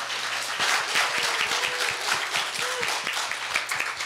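An audience at a student speech contest gives a round of applause, many hands clapping at once in a sustained, lively, fairly loud burst from the crowd.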